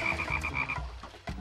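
A cane toad croaks in a bayou, a run of quick rhythmic pulsing calls over continuous background music, faint and fairly close.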